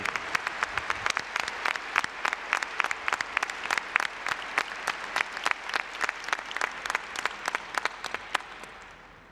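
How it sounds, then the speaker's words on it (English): A large crowd at a university spring commencement applauds new doctors of education, a dense and steady patter of many hands clapping that fades toward the end. "give another round of applause for all of our new doctors of education"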